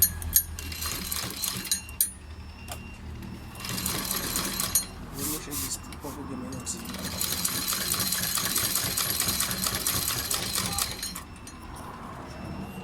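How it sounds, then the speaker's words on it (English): A sewing machine stitches fabric for a Zara-style cap. It runs in bursts of fast, steady whirring with short stops between them, and it sounds close and moderately loud. Someone speaks quietly during one of the pauses. "So at this point, we'll go ahead and stitch."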